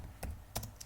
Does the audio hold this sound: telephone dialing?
no